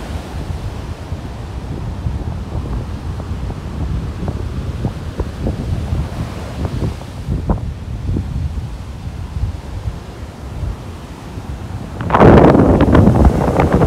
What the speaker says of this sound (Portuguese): gente, fazendo muito vento aqui.